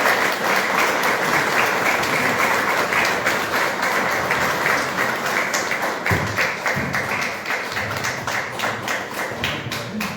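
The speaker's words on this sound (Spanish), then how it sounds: "le damos la bienvenida con este aplauso" A lecture audience at the Academia Sanmartiniana welcomes the speaker with sustained, full-room applause, many hands clapping steadily for about ten seconds and thinning slightly toward the end.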